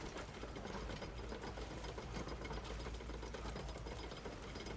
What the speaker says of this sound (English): Why do you keep those chains running all the time?